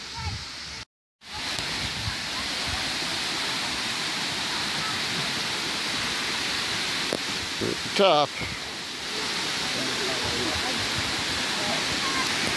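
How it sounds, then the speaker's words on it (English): Amicalola Falls pours in a steady, loud broadband roar through the whole stretch, interrupted by a brief dropout near the start, with a short voice and a faint rattle rising over the rush of water. "I can hear the falls up ahead"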